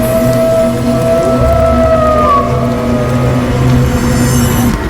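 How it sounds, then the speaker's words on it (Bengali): Rain falls steadily through a cartoon night, a loud continuous patter with sustained eerie tones and a gliding pitch sweep layered over it, and no voices. "বাইরে তখনও বৃষ্টি ঝরছে টুকটাক"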